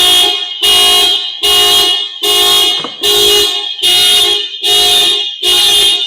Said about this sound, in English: when they do so, the alarm is going to get triggered.